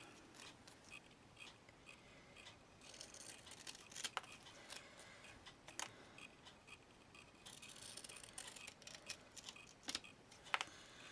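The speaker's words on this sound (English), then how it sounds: "taking a pair of scissors, just going to cut a straight line around the edge to give it a glittery border" Scissors snip a straight line around the edge of glitter paper for a craft border, quiet crisp cuts and rustles coming in irregular bursts, close and faint with no talking.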